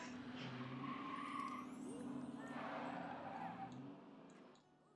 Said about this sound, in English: Someone's obviously ragging their sports car.